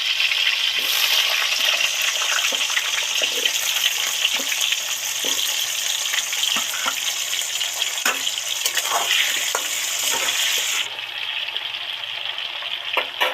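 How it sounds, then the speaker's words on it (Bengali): Potatoes frying in hot oil for a vegetarian cabbage dish: loud, dense, continuous sizzle close to the pan, dotted with spatula knocks and stirring clicks, easing slightly near the end, no talking. "তেল গরম হয়ে গেছে, এবার আলুগুলো তেলের মধ্যে ছেড়ে দিচ্ছি"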